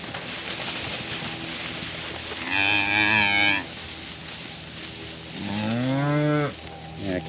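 Hungry yearling calves at a pasture moo twice, each a long, clear bellow standing out over steady wind and background rumble outdoors.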